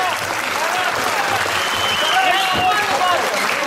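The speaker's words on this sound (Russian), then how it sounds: "Еще аплодисментов" Audience applauding at a dance battle event, steady sustained clapping from a crowd with voices and cheering mixed in throughout.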